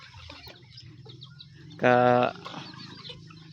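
A small backyard chicken flock kept alongside ducks: one loud, sharp clucking squawk rings out close by, surrounded by faint softer clucks and someone speaking.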